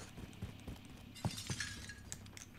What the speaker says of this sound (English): Who broke glass?